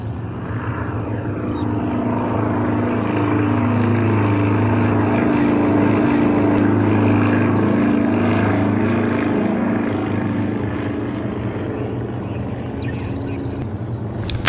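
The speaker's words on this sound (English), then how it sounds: "we flew in formation with a conventional wing 337 aircraft to clearly demonstrate the low speed, short takeoff distance, and higher rate of climb" Propeller aircraft fly in formation, a turbo wing test plane alongside a conventional-wing Cessna 337, giving a loud, steady engine and propeller drone with a slow pulsing beat that holds throughout.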